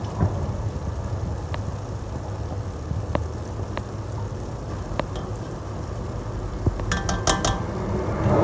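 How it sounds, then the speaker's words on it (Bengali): Rice being added and stirred in a cooking pot, heard as scattered metallic clinks and scrapes of a utensil against the pot, with a cluster of bright clinks toward the end over steady background noise. "আমরা হচ্ছে এখন আস্তে আস্তে চালটা দিয়ে দিব, আর আস্তে আস্তে চালটা হচ্ছে মিক্স করে ফেলবো।"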